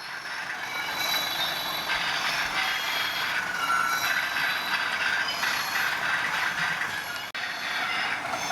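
Industrial train sound effects from a model railway, a continuous mechanical clanking and rattling with a metallic squeal, steady and moderately loud throughout with one brief dropout near the end.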